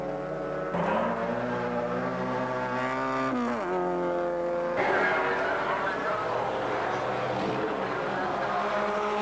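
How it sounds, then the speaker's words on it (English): Production cars finishing a 1988 championship race nose to tail, their engines droning and shifting pitch as they pass, with a commentator talking continuously over the roar. "Those three cars finishing nose to tail."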